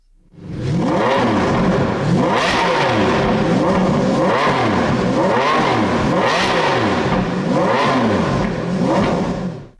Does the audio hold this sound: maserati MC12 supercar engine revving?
yes